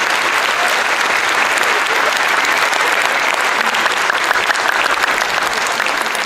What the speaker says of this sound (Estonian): Sirje Hints ja Carolin Pajula, neile ka suur aplaus tänu.